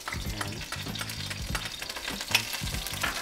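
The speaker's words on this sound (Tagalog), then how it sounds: "Lagyan natin ng bawang." Garlic sautéing in a hot pan for ginisa, a steady close sizzle with scraping stir strokes and faint tonal clinks mixed in, no talking.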